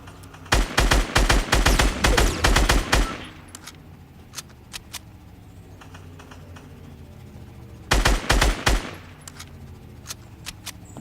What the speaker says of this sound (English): I go ahead and take a couple pot shots at him